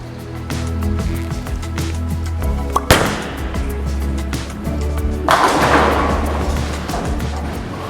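A Max D bowling ball rolls down a fresh, slightly longer oiled lane, rumbling steadily before a sharp crash of pins midway, followed by more rattling impact and lane noise.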